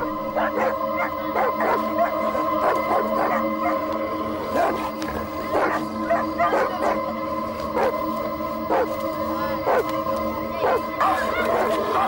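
Several dogs bark in quick bursts while others howl in long, drawn-out tones, all loud and close, continuing throughout.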